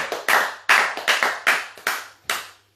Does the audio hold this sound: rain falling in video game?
no